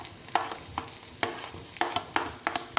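Capsicum, cabbage and green chilli fry in a pan under a steady low sizzle, broken by regular spatula scrapes and taps as they are stirred.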